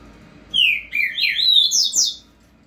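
A papa-capim (coleiro) songbird sings a clear, firm phrase of bright whistled notes and quick trills, loud and close, lasting about a second and a half against a quiet background.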